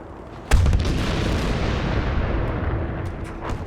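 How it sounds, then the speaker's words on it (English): A Sturmtiger in Battlefield V fires its 380mm rocket-propelled shell with one sharp, loud blast, then a long rumbling roar and crackling debris that carries on to the end, with no talk. "fires a 380mm rocket-propelled shell that decimates whatever it hits"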